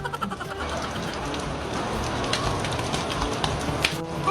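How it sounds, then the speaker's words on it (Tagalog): Rain pours down steadily while a child bathes in it, a loud, dense patter of drops hitting surfaces close by, with a few sharper splashes near the end. "Hala, si Mateo naliligo ng ulan."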